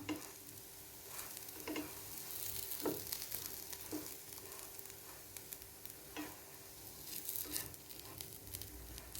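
Vegetable oats cutlets frying in a pan, a quiet steady sizzle with a few soft taps and spatula touches as they are turned, no speech.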